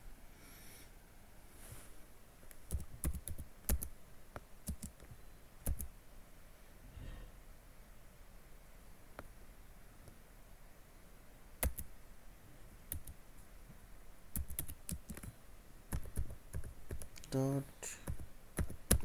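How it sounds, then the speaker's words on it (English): Intermittent clicks and taps of a computer keyboard as network scan commands are entered in a lab, quiet and irregular with short bursts of keystrokes. "And I am typing nmap command"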